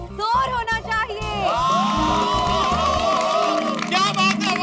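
A festive audience at a residential society's celebration claps and cheers loudly, with whoops and children shouting mixed into a continuous wall of crowd noise alongside musical tones.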